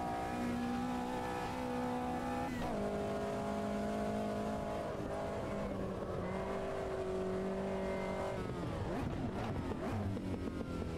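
A race car engine in the Automobilista 2 racing game revs and shifts gears continuously, pitch climbing and dropping with each change, loud and close throughout.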